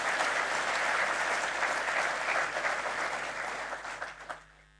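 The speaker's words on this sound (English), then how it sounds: "a big round of applause to everybody in IIM Calicut for that" Sustained applause from a large audience at an inauguration ceremony for a new batch at IIM Calicut, dense and steady, then thinning and fading out near the end.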